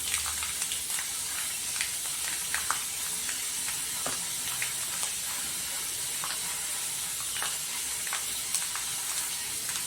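Onion, cut okra and curry leaves fry in a hot pan, giving a steady close sizzle with scattered small crackles and pops throughout, and no voices.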